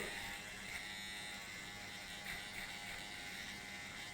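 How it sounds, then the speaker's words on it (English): Electric hair trimmer buzzing steadily and quietly for a few seconds while a hard part line is cut into hair along a ruler, an even unbroken drone with no voices. "And you can also hold the trimmer this way."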